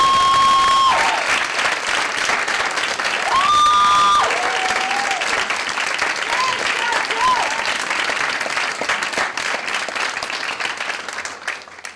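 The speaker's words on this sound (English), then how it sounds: "Join me in a round of applause for George." A crowd applauds at a social justice awards ceremony, loud sustained clapping with some cheering for about twelve seconds, briefly overlaid by a few tonal notes early on before tapering slightly.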